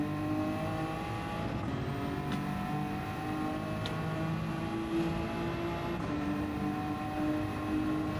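A race car engine in Gran Turismo 7 drones at high revs, its whining harmonics climbing and then dropping at shifts around two, four and six seconds, steady and fairly loud with no voices.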